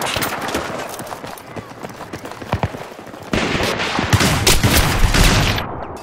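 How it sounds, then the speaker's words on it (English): Shotgun gunfire in the video game Battlefield 3, loud rapid bursts of shots and heavy blasts layered over one another in a dense, chaotic firefight with hardly any speech. "all these people using shotguns"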